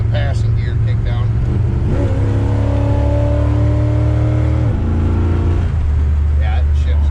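A 1973 Dodge Dart's Slant 6 engine with a 904 transmission revs up steadily as the passing gear kicks down, the pitch climbing then dropping at the shift, heard from inside the car with people talking before and after.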